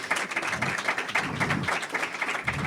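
An audience claps steadily at a sustainability talk event, a dense continuous wash of hand claps lasting throughout, fairly loud and close, with no pauses.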